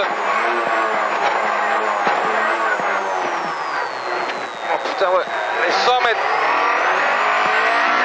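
Opel Kadett GSi rally car driving flat out on a stage of the Rallye de la Semois 2022, heard from inside: a constant loud engine whine with gear changes and a brief lift mid-run, while the co-driver calls notes over it.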